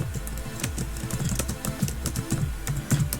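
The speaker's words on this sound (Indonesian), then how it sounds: "terus ketik aja" Fingers type quickly on a computer keyboard, a close, busy run of uneven clacking keystrokes with no talk over it.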